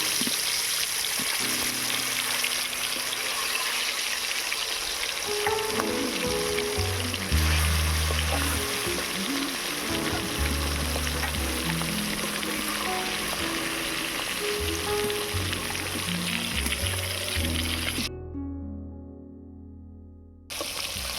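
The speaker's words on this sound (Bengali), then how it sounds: "তেল গরম হয়ে গিয়েছে। এবারে মাছগুলো ভেজে নেব।" Steady sizzling and bubbling of pangas and tengra fish frying in hot mustard oil, close and continuous, with occasional clinks, then cutting off near the end.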